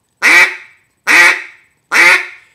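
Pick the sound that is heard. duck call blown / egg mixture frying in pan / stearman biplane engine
duck call blown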